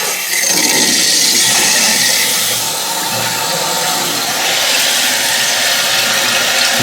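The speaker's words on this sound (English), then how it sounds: "The tank is filling up right now" A toilet tank refilling through a newly installed fill valve: a steady, loud hiss of rushing water that runs continuously without pause.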